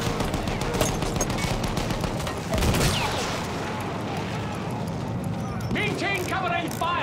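Covering fire in the World War I shooter Battlefield 1: dense, rapid rifle and machine-gun bursts roll continuously close by while soldiers shout over the gunfire.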